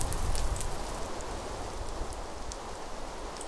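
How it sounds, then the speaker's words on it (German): Steady rain falls in Agrarian Skies, a continuous soft hiss with faint scattered drop ticks, slightly louder at first, then settling evenly with no voices. "Fängt so an zu regnen."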